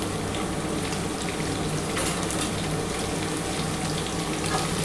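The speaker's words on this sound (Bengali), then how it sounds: "আগে প্রথমে আলু আর কাঁচকলাটা একটু হালকা করে ভাজা হলে আমি পটলটা দেবো।" Potatoes and green banana pieces fry lightly in oil with whole cumin, giving a steady, dense crackling sizzle that carries evenly through the whole stretch with no talk.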